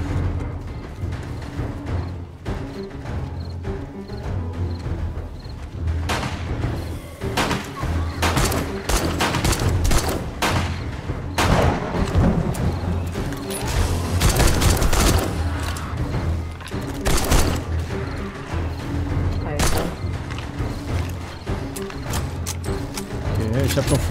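Rapid bursts of rifle fire in the video game 7 Days to Die crackle repeatedly, with booms and mechanical clatter mixed in, while a person talks in German over the action.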